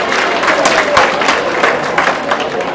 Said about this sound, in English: Let's give a hand of applause to American Motion Pictures